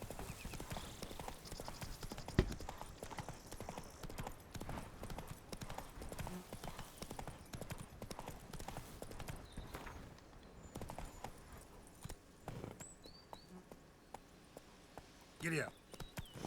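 Horse hooves clip-clop at a steady walking pace in The Witcher 3: Wild Hunt, Blood and Wine, with a brief whinny near the end; voices and soft game ambience sit under the hoofbeats.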